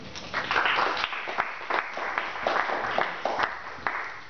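Steady applause from a group of people, a dense wash of clapping with occasional louder claps, heard from a moderate distance with no other sounds standing out.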